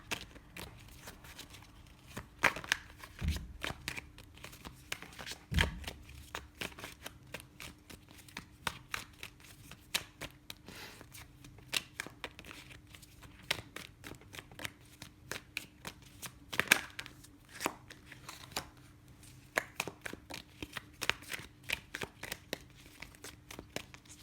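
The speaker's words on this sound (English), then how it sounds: "Just pull a couple more cards for clarification here." Tarot cards being shuffled and pulled from the deck, soft papery riffles, slides and crinkly handling taps scattered irregularly at close range, fairly quiet, with no talking.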